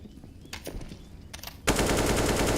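Counter-Strike match gunfire, a few scattered weapon clicks and shots, then a sudden sustained burst of rapid automatic fire that stays loud to the end.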